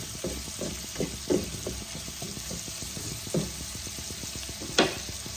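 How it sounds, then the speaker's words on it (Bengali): Onions frying in oil until light brown, a steady close sizzle broken by rhythmic stirring scrapes and a few sharper clinks of a spoon against the pan. "এবার পেঁয়াজগুলোকে আমি হালকা বাদামি রং করে ভেজে নেব।"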